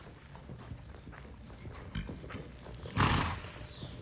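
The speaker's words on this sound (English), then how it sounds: "So you hear him snorting like that a little bit?" A horse snorts once, in a sharp breathy burst partway through, while its hoofbeats thud steadily and close during a ride at a lope.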